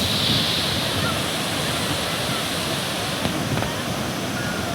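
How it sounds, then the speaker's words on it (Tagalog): Falling water at Tinuy-an Falls roars in a steady, dense rush from start to finish, loud and unbroken, like standing close to a waterfall. "maririnig mo na yung bagsak ng tubig dito"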